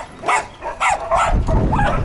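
A dog named Alex gives several short, sharp barks and yips in quick bursts, close by in a kennel enclosure, with brief gaps between the calls.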